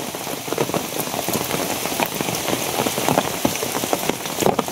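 Steady rain patters densely on a surface close by, a continuous hiss broken by sharper individual drops, with no voices.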